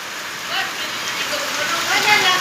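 Heavy rain pours down at night around a house, a steady broadband hiss that swells slightly toward the end, with muffled voices faintly underneath.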